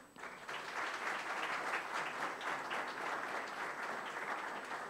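Audience applause at a corporate business conference, steady dense clapping from a large crowd filling the room throughout, fairly distant and even in level.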